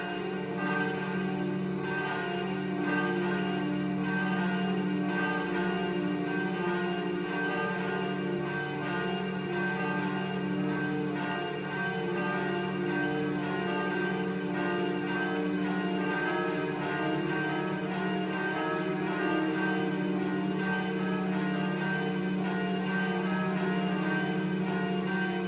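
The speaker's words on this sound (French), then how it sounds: "La cloche 2 va arriver." Bell number 2 of a church rings continuously for about twenty-five seconds, a steady, sustained metallic tone with overlapping resonance and no voices.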